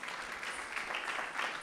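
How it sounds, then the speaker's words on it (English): A crowd applauds at a Diwali celebration on Trafalgar Square, a dense, steady patter of clapping from many hands, somewhat distant and fairly quiet, with no pauses. "a big round of applause for Isha"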